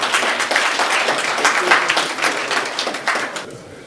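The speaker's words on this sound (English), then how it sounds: "Round of applause." Guests at an Igbo community business banquet give a round of applause, lively close clapping with a few stray voices that stops abruptly near the end.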